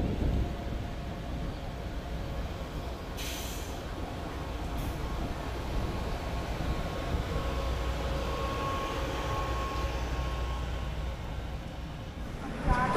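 The Tamralipta Express, a Digha–Howrah train, rolls slowly into a platform at a large station with a steady, loud rumbling drone that barely changes and a faint higher hiss briefly cutting through.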